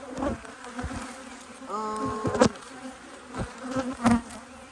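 Honeybees buzz around an opened hive on a wet day while the agitated colony is being worked. A steady near drone is broken by sharper, higher whines as single bees zip past.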